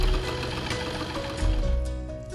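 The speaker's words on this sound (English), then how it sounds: "Run water through the machine to test if it is flowing freely." A cement plaster machine runs with water flowing through its pump and hoses, giving off a steady mechanical hum and rattle with a rhythmic, slightly knocking pulse that grows louder midway and continues without a break.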